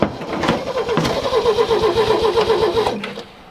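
A Ford Mk1 Transit van, left untouched for years, cranks with a rapid rhythmic churning of the starter for about three seconds before cutting off, loud and close.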